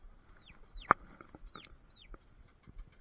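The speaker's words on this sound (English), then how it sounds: "This gal down here is a silver Wyandotte that our friends gave us." Silver laced Wyandotte hen giving soft, sparse clucks and short rising calls, fairly quiet and close, with one sharp tap partway through.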